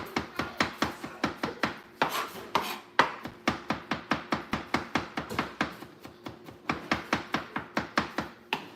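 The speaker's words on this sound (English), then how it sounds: "So I be mincing my ginger a lot finer and smaller." Ginger minced finely with a knife on a cutting board while making Jamaican brown stew shrimp, a steady fast run of crisp close chops, about four per second, with only brief pauses.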